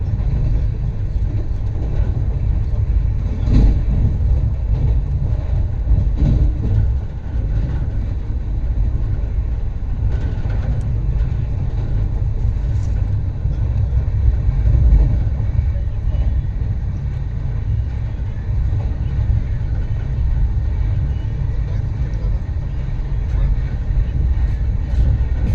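A moving passenger train on the rail line to New Delhi rolls on, a continuous deep rumble with track noise and occasional clanks, steady and loud throughout.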